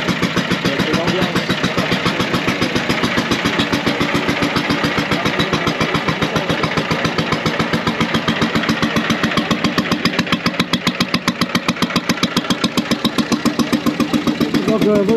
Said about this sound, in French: Un moteur Bernard W2 début des années 30